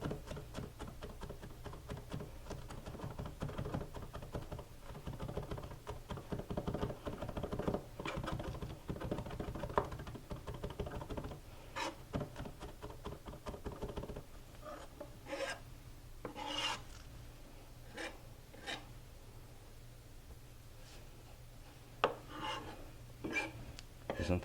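Chef's knife mincing on a cutting board with a rocking motion for chili, a dense run of quick close tapping chops that thins into sparser, separate knocks later on.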